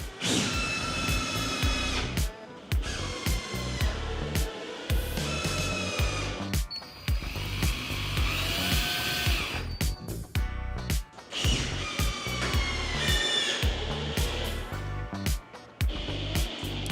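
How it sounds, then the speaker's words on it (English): A power drill driving screws to fix down a Korniche roof lantern on its upstand, heard as repeated whirring bursts of the motor with short pauses between them, close and loud throughout. "then you're ready to screw it down"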